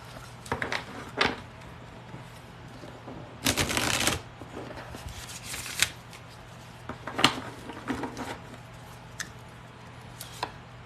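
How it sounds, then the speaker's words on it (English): Tarot cards shuffled in several quick riffling bursts, close up, with brief pauses and light tapping between them. "Let me shuffle on that one, Joe"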